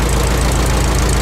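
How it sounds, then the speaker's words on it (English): A small aircraft engine idles as it warms up on a sunny day, a loud, close and steady drone with no pauses and no voices. "Nice warm engine."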